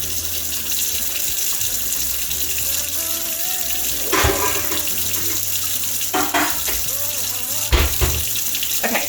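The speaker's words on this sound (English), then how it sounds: "now let's rinse off these beans." Tap water runs steadily into a sink, rinsing soaked beans in a colander, with a few louder splashes and clatters partway through as the beans are shifted.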